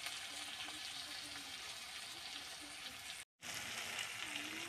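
Spiced pointed gourd frying in a pan with masala, a steady close sizzle and crackle running without pause, broken once by a brief dropout.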